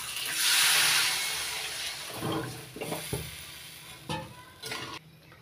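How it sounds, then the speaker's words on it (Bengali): Water is poured into a pan of frying beans and potatoes, setting off a loud burst of hiss and steam that fades to a softer sizzle. Several close stirring scrapes and clatters follow. "এবার দিয়ে দিচ্ছি পরিমাণ মতো জল।"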